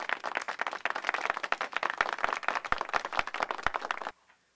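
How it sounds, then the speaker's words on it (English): Slow, steady hand claps ring out at an even rhythm during a live-streamed rock-and-roll roast, fairly close and clear with no talking over them, then stop abruptly just before the end. "Where's my slow clap?"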